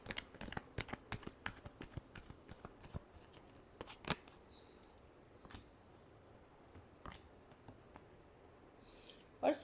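Tarot cards being shuffled by hand, a rapid run of crisp riffling clicks and flutters in the first few seconds, then scattered sharper slaps and taps, close and fairly quiet.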